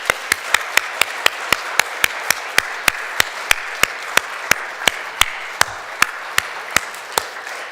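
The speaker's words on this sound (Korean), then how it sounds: "다 같이 시작, 박수." Elderly audience members clap together in a slow, even unison beat, roughly two sharp claps per second, loud and close with a faint room murmur between the strokes.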